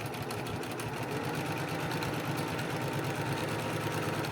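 A sewing machine stitches binding onto a quilt, a close, steady whirring drone with rapid needle chatter running throughout.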